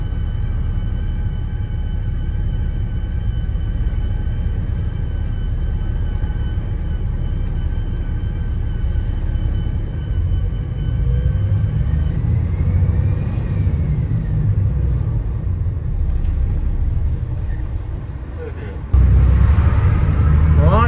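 A Birmingham–Ludlow X92 bus pulls away and drives along, a steady low engine rumble and road noise filling the cabin throughout, with a louder burst of engine noise near the end.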